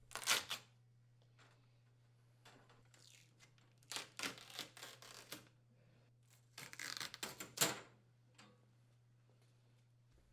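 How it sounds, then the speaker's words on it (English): Tape peeled off black trim pieces on a double oven frame, short crackling rips and scratchy bursts separated by quiet gaps, close and faint over a low steady hum. "Remove the tape securing the black trim pieces to both sides of the oven frame."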